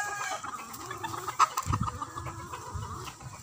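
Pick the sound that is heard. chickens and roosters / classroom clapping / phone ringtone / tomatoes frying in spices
chickens and roosters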